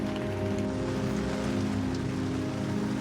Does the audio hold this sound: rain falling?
yes